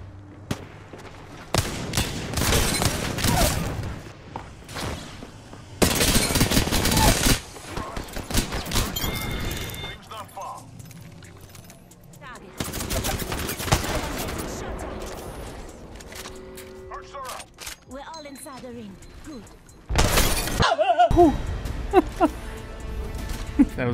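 Bursts of video game gunfire, with loud rapid volleys in several bursts between quieter stretches and players talking over them.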